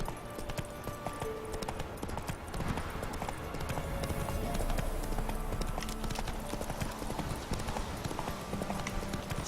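Roach, a horse in the Witcher 3 video game, gallops with a steady clip-clop of hooves on hard ground, continuous and fairly close, mixed with game ambience and light background noise.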